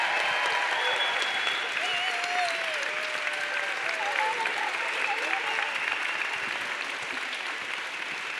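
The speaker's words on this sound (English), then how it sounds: "can we get one more round of applause for these amazing students?" Conference audience giving a round of applause and standing ovation for a student panel, a loud sustained wash of clapping with scattered cheers and whoops, slowly easing toward the end.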